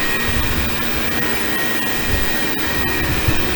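Xiaomi Vacuum Mop 2 robot vacuum running its cleaning routine, a steady whirring motor drone with constant suction noise close by, unbroken for the whole stretch and with no talking.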